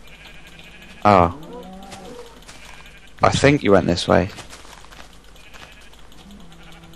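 Sheep bleat in the video game Minecraft, a loud wavering bleat near the start followed by a cluster of several bleats in quick succession, with a person speaking briefly over the game sounds.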